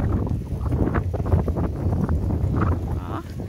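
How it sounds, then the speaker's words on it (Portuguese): Outdoor wind rushes steadily across a rural hillside with cows and small houses in the distance, a continuous low buffeting roar against the microphone with a faint voice underneath. "Ó, olha o vento."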